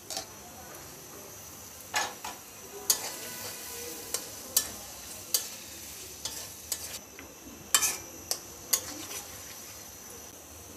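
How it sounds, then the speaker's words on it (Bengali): Chopped onions fry in white oil for beresta, a soft continuous sizzle broken by frequent sharp spoon clicks and scrapes against the pan, spaced irregularly throughout. "এরপরে বেরেস্তা ভেজে নেব। এই জন্য কিছুটা পেঁয়াজ কুচি দিয়ে দিচ্ছি।"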